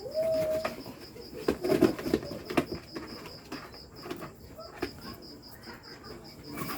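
Pigeons coo in a loft, several soft rolling calls heard fairly close alongside a few wing flaps and background rustle. A person speaks briefly in the background.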